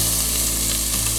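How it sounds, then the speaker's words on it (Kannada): Tomatoes go into hot oil in a frying pan for chicken biryani, and a loud, steady sizzle fills the moment up close with no one speaking. "ಸೊ ಟೊಮೆಟೊ ಹಾಕ್ತಾ ಇದ್ದೀನಿ."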